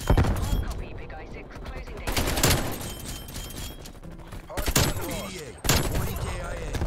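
Rapid bursts of AK-47 automatic fire from a Call of Duty Cold War match, several loud, dense volleys with short pauses between them, while a player talks over the gunfire.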